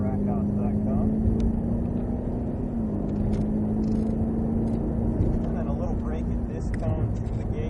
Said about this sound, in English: now squeezing on the power, letting the car track out to that cone